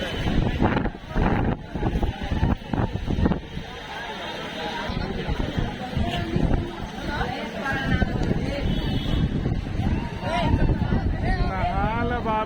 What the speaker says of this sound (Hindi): ये है तेज आंधी चलने का प्रभाव।